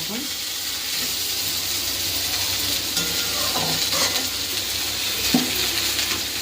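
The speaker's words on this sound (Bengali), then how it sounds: "এখন একটু নাড়াচাড়া দিয়ে ঢাকা দিয়ে দেবো" Tomatoes and green chillies fry in a pan with a steady sizzle and hiss, while a spoon stirs and scrapes through them in a few soft strokes with a sharper clack near the end.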